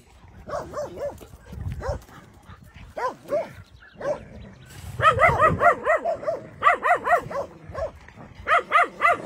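A dog barks repeatedly nearby in short bursts, pausing briefly before a faster run of loud, closely spaced barks.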